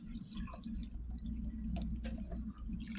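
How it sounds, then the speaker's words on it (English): Water poured into a Pyrex glass baking pan holding BBQ pork ribs, a quiet close-up trickle and dripping over low background hum. "I'm going to put some water in my pan. My Pyrex, just like this."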